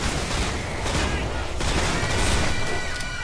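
Rapid, dense firing from a powerful gun in Killing Floor 2, a loud continuous barrage of shots against zombies with no clear pauses.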